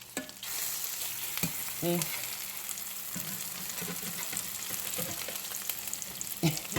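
Food sizzles steadily in a hot pan while making a meatless casserole, a continuous close frying hiss with occasional scraping and stirring knocks and a brief spoken word.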